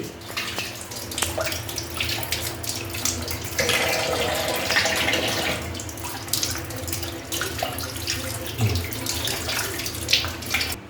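Tap water runs steadily into a sink while potatoes are washed under it, a soft continuous splashing with faint rubbing and knocking throughout, at moderate volume and without talk.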